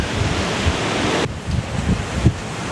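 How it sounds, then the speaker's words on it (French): Strong wind from cyclone Batsiraï roars in a dense, constant rush, buffeting the microphone with low gusty thumps, loud and unbroken, with no voices. "Le vent bien levé là."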